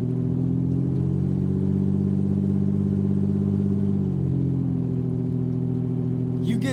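A pickup truck's engine hums steadily from inside the cab while driving, a continuous mid-pitched drone with a slight shift in tone partway through and a brief rattle at the very end, with no talk over it.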